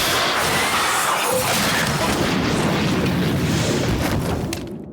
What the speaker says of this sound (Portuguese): um grande vazamento de gás acontece, uma explosão rola perto desse menino, aí o Daniel sai correndo para salvar ele